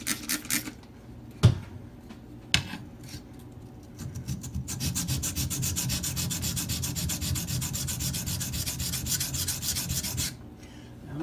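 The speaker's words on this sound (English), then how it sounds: "Just going to do a few back and forth strokes to see where I'm grinding" Benchmade 970S Emerson Spec War CQC7 knife blade drawn across a sharpening stone: a couple of isolated scrapes, then a steady run of rapid back-and-forth rasping strokes, close and fairly quiet.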